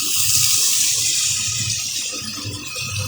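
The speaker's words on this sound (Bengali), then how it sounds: "পরিমাণ মতন আমি জল দিয়ে দিচ্ছি।" Water gushes steadily into a cooking pot in one continuous, close, loud pour with a hissing splash, with no talking.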